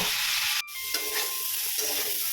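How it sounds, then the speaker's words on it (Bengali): Cauliflower florets frying in a covered pan, a loud steady hiss of sizzling oil with a brief break near the start, then continuous spitting crackle. "এই রকমই ঢাকা দিয়ে ফুলকপিগুলোকেও লাল করে ভেজে নিচ্ছি"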